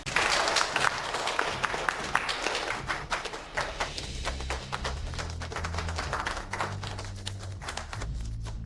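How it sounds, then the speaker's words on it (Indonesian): An audience at an award ceremony applauds a winner taking the stage, with dense clapping that starts loud and gradually thins to scattered claps while a low musical bed plays underneath. "Mari kita berikan tepuk tangan yang meriah"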